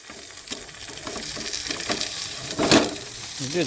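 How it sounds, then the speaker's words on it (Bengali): An egg fries in a pan at home, a continuous crackling sizzle with a few sharper spatters and scraping touches, fairly close and steady. "তাহলে আমি ডিম নিয়ে আসছি ডিম ভাজি"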